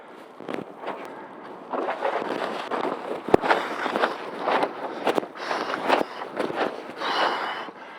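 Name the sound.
strong wind gusts during wingfoiling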